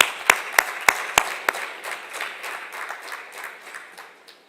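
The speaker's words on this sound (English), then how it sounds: "let's give him a round of applause" An audience at a science centre's tenth anniversary celebration applauds, opening with a few loud, distinct claps before a dense patter of clapping that gradually thins and fades.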